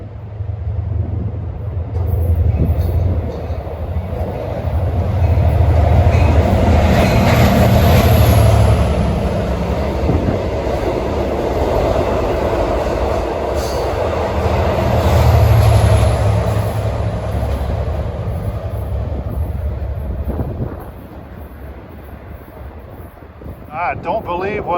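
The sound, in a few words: Long Island Rail Road push-pull train 8709 passing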